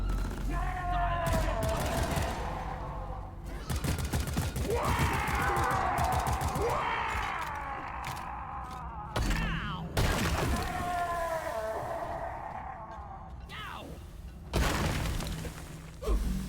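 Chain of exploder enemies bursting in Deep Rock Galactic, a string of loud crackling, shattering blasts in several bursts separated by short gaps, with game sounds and occasional voice between them.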